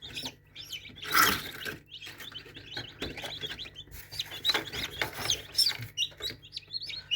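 Newly hatched chicks in a home incubation batch give repeated high, thin peeping chirps, fairly close and continuous over soft background noise, with a louder burst near the start.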